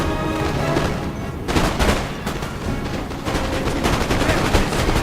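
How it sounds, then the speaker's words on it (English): Line infantry musket volleys in the Napoleonic battle game Napoleon Total War: loud, dense crackling gunfire with overlapping shots and booms, rising in waves of intensity throughout. "So now my line infantry gets to take some shots."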